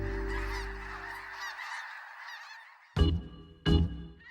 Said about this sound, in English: Snow geese